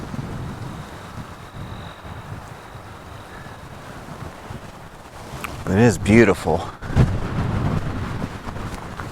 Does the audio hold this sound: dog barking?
no